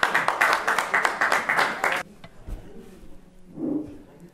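Audience applause at an evening semikha ordination celebration, a loud burst of dense clapping for about two seconds that cuts off abruptly, followed by quiet room noise and a brief murmur.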